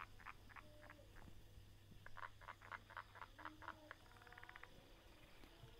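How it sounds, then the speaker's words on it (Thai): Frogs croak on a quiet, windless evening in short pulsed bursts that come in rapid rhythmic series, moderately near against a soft steady background hum. "ในความสงบก็มีเสียงกบหน่อย"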